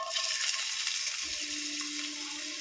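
Chopped ginger and garlic fry in hot oil in a wok, giving a steady, close sizzle with light stirring and no talking.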